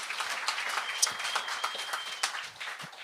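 Audience applause at a Quebec comedy show (Le Gong Show), steady dense clapping through the whole stretch at a moderate level, with a few sharper individual claps standing out.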